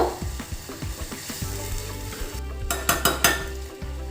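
Vermicelli for sabakki payasa cooks and is stirred in a pan: a steady sizzle with repeated scraping and clinking strokes of a spoon against the vessel, close and fairly loud, with no talking.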